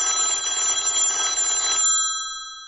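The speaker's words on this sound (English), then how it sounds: "your phone's ringing right now" A cell phone rings with a bright, loud electronic trill that holds steadily for nearly two seconds, then cuts off and fades into a short, quiet tail.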